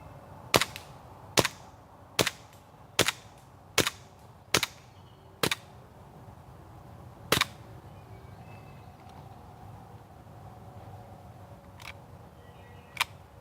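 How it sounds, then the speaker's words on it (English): A We Desert Warrior airsoft pistol firing single rounds from its standard magazine: eight sharp, evenly spaced cracks close by, followed by a quiet pause and two fainter clicks. "So we're gonna fire 8 rounds of its standard magazine to show the gun working"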